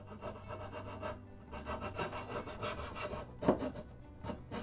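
Hand saw working back and forth in wood while cutting the pins of splayed dovetails for a stool, a close, steady rasping rub with one sharper scrape near the end and no talking.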